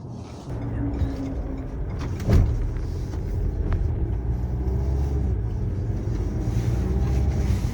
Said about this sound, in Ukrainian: Так, тест-драйв робимо. Їдемо, нічого не пинається.